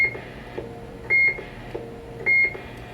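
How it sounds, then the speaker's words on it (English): Two short electronic roger beep tones from a Stryker SR-497HPC CB radio, each about a quarter second, clear and evenly spaced over faint background hiss. "This is Roger beep 1."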